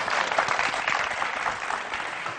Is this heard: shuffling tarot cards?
no